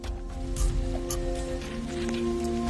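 Heavy torrential rain falls outside a dilapidated building, a dense steady hiss of drops close by that holds loud and unbroken throughout, with no voices over it.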